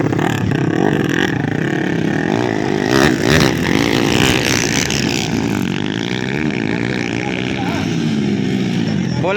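Underbone motorcycles race in an open motocross category, their engines revving hard and loud with rising and falling whines as they pass close by, under an excited commentator's voice.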